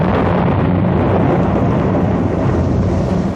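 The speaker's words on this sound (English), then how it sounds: "A terrible noise filled the air made by the waves, wind and thunder." A thunderstorm sound effect from an early-1970s audio drama set at sea: a continuous heavy roar of wind, waves and rumbling thunder, loud and dense throughout with no voices.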